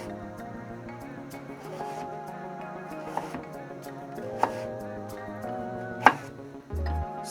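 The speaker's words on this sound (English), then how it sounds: "Okay, so cut off a strip, that way it's nice and stable, and then cut into slices." A knife slices a carrot on a cutting board in a series of close, crisp chops and taps, irregular in timing, with a few sharper knocks standing out against a faint background tone.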